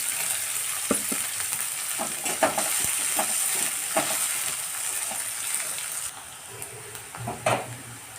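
Green chillies hit hot oil with onion in a frying pan for dry fenugreek (methi) bhaji, giving a steady close sizzle with occasional stirring clatters throughout.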